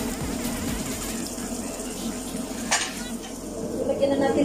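Food is stirred in a frying pan with faint sizzling and soft clinks of a utensil against the pan, fairly quiet and close, with a voice speaking briefly in the background.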